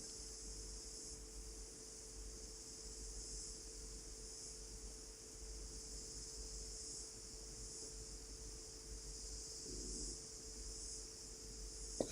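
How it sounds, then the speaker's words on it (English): A cicada sings with a continuous, high, even buzz in a quiet outdoor setting, steady and moderately faint for the whole stretch. "I can hear the sound of cicada getting bigger, and I can picture he's singing"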